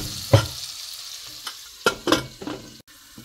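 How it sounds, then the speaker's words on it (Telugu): Vegetables for veg pulao sizzle in a pan, under a steady frying hiss with a few louder clattering stirs and scrapes spaced irregularly, close up and with no speech. "ఒకసారి మంచిగా కలిపేసుకొని ఒక 1 మినిట్ క్యాప్ పెట్టేసి కుక్ చేసుకుందాము"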